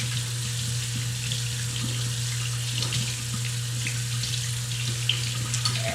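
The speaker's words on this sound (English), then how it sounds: "we're just going to pour them into the strainer, and then we're just going to strain off all the excess" Liquid from beans is poured into a strainer and drained off, making a continuous rushing splash and gurgle like running water into a sink, close and steady throughout.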